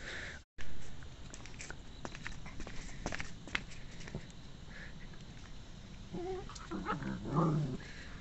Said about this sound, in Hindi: ये इतना ज़्यादा जलनी कुत्ता है ना